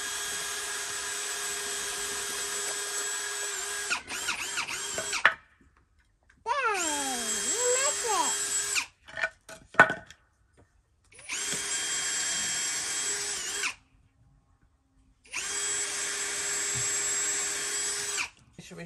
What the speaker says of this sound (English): Daddy's gonna drill them all together, okay?